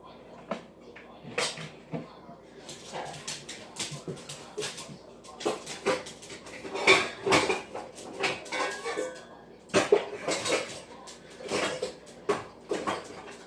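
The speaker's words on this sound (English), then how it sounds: "I'm going to get the strainer out." Metal pots and pans clatter and clank in a home kitchen while a strainer is dug out, irregular bursts of banging and scraping with a cupboard thump, and a person talks between the knocks.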